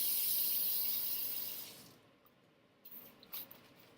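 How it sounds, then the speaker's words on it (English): A glaze brush rinsed under a running tap: a loud hiss of water for the first couple of seconds that then cuts off, leaving faint drips and small wet taps. "I need to rinse it off because I can't trust that someone else actually cleaned it."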